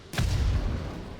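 Bombs explode in War Thunder tank combat: a single heavy, close boom bursts in suddenly and rolls on as a dense, loud rumble that fades only slightly.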